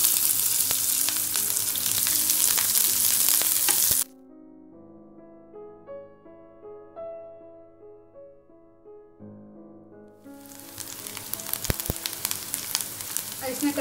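Green chili and onion fry in a hot pan for a tangy raw-mango rice, giving a loud, steady sizzle that drops out for a stretch of soft melodic music before the crackling frying returns.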